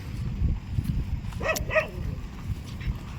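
Dogs playing near buffaloes on a farm give two short yelping barks in the middle, over a low rumbling background.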